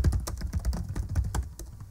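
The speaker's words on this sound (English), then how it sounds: "So I'm just going to type in the names exactly as they appear." Names being typed on a computer keyboard, a quick, irregular run of light key taps up close, steady throughout with no voices.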